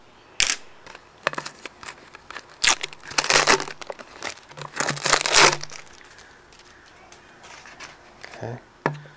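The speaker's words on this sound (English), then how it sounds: "I like to go ahead and cut off the label." Crinkling and crunching of a thin plastic label being cut away from a plastic soda bottle, in a string of close, irregular bursts with brief pauses between.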